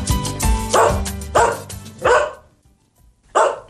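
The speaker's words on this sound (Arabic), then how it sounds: "شوفي مال الكلب اللي كينبح، راه اكثر من ساعة هو على هذه الحالة" A dog barks loudly and close by in a burst of several sharp barks, then pauses briefly before one more bark, with no voices over it.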